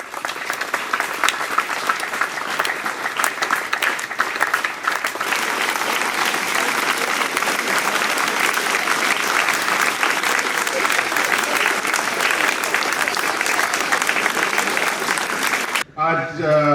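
An audience at a school's Old Boys Day special assembly breaks into long, sustained applause, a thick continuous roar of clapping that runs steadily before cutting off abruptly near the end.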